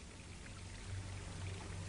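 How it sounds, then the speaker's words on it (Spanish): Water flows down a model canyon into a small reservoir in a sediment demonstration, producing a steady, continuous pouring rush with a low gurgle, close and unbroken throughout. "El agua que baja por el cañón representa el flujo normal de la corriente"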